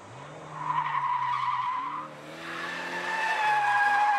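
A Toyota Hiace van drifts with loud, sustained tire squeal, its engine pitch rising and falling close by, with no talking.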